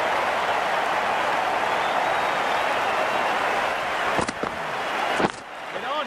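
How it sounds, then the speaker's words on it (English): A stadium crowd in the video game Cricket 19 cheers in a dense, steady roar of applause and shouting, broken near the end by two sharp clicks. "The crowd are loving this."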